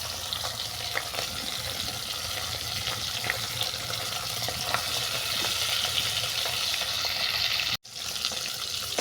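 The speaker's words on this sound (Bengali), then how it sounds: "মাছ একটু ভেজে নেওয়ার পর অপর থেকে উল্টে দিলাম" Pankha fish frying in hot mustard oil gives a constant close sizzle and crackle, with occasional scrapes and a brief cut near the end.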